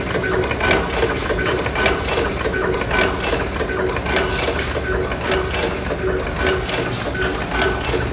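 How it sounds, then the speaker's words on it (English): An automatic dual-head wire strip, cut and terminal crimping machine runs continuously with a busy, rhythmic clatter of rapid mechanical ticks and thumps at a steady, fairly loud level. "this is a rotary to feed the wire. And this is a crimping unit."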